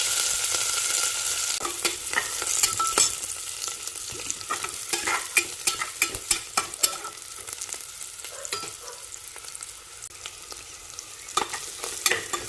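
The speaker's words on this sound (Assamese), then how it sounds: "এয়া পিঁয়াজ দিলোঁ আৰু পিঁয়াজখিনি ৰঙচুৱাকৈ ভাজি ল'ম মই" Chopped onions frying in hot oil in a pan for chana dal khichdi: a continuous close sizzle broken by frequent sharp scrapes and clicks of a spoon stirring, with no talking.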